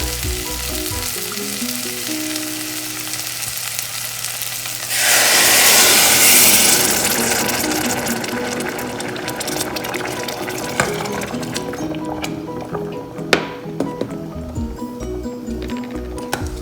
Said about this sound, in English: Add 2 cups water, hot water.